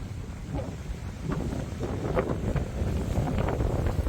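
Sailboat under sail at 5-6 knots off Guadeloupe, with steady gusting wind buffeting the microphone and a continuous wash of water along the hull, growing slightly louder and rougher throughout.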